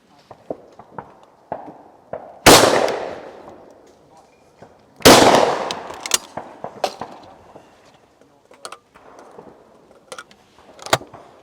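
Shotgun fire at clay targets on a shooting ground: two loud, sharp reports a few seconds apart, followed by lighter clicks and handling noises of the gun, with some faint voices nearby.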